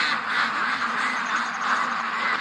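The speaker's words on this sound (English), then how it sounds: "I was laying in bed listening to the ducks" A flock of ducks calling outdoors, a busy, continuous overlapping chorus of quacks at fairly close range, steady and fairly loud throughout with no talking.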